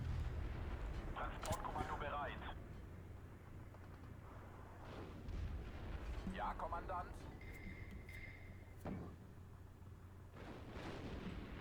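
Distant artillery and mortar fire from the video game Steel Division 2 thuds and rumbles under a constant low battlefield roar, with a few sharper bursts and whistling sounds, while a person talks over it.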